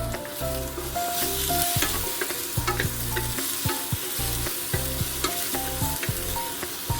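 Chopped tomato goes into a pan of paneer and peas kurma, frying with a steady sizzle while a spoon scrapes and stirs in repeated knocks and clatters, close and continuous with no talk.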